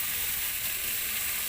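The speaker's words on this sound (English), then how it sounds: "So now we have to put our fish back on the pan." Fish pieces for fish sisig fry in a pan, giving a steady, even sizzle that fills the whole clip without a break, close and moderately loud, with no talking.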